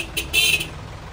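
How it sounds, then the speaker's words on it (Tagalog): Two short blasts of a snail-type vehicle horn, a brief toot followed by a longer, louder honk, sounding close and clear without talk. "partneran niya ng snail horn or yung suso"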